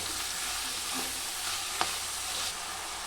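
Vegetables with salt in a pan give a steady hissing sizzle as they are stirred, with one clear clink of a spoon against the pan.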